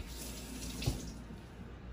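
Tap water runs steadily into a sink while a whole tomato is rinsed for chile, with a brief louder splash near the middle and no talking.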